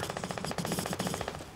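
Machine gun fire in a video game, a loud, steady rapid rattle of evenly spaced shots that continues without pause.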